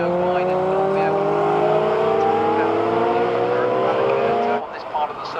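Ferrari F355 and 328 race cars lapping the Brands Hatch circuit in a Ferrari club classic race, engines droning steadily with rising pitch as they accelerate, loud and close, until a sudden drop near the end; commentary talk runs over it.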